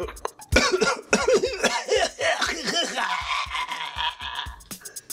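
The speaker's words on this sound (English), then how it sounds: "so if you hear a bit of cough" Someone coughs and splutters in a series of short rough bursts mixed with laugh-like breaths, close up, easing into a quieter rasp.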